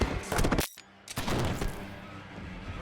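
Gunfire in an animated sci-fi short: a rapid burst of loud shots, a brief silence, then more shots with a rumbling tail, all close and punchy.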